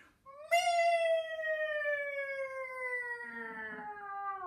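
A singer imitates a kitten's meow with a clear, high voice that sweeps steadily downward in one long sliding tone, heard alone and fairly close.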